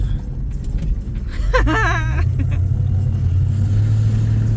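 1967 Ford Mustang engine with a newly fitted regulator and refitted alternator on a road test drive, a steady low rumble heard from inside the car, with a brief voice cutting in partway.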